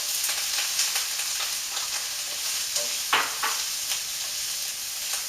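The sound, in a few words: onions cooking in butter in a saucepan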